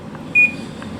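Air conditioner in dehumidify mode: a single short, clear electronic beep from the unit over a faint, steady low hum, with no voices.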